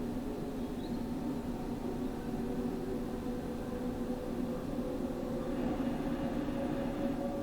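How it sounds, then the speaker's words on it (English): LNER Azuma Class 801 train in Train Sim World 4, heard from the passenger view, giving a steady low rumble and hum of the carriage in motion, continuous and moderately loud, with no talk. "you get much better sounds of the train from passenger view"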